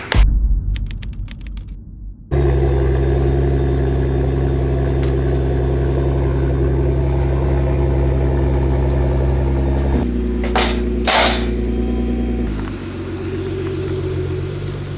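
A Nissan GT-R engine idles loudly and steadily with a deep, rumbling drone after a few seconds of light clicking, then a couple of sharp ticks and a slight drop in level near the end.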